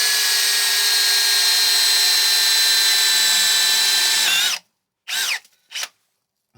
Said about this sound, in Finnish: Ja mä nyt poraan tänne missä sitä vettä nyt on ollut